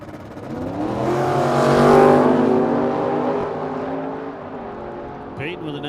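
A 1969 Plymouth Road Runner launches down a drag strip at a Medicine Hat race meet. It is a loud, sustained engine roar that swells and peaks, then holds a harsh rumble before fading slightly.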